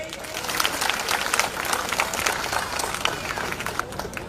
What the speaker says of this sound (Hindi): तालियां गिराइए।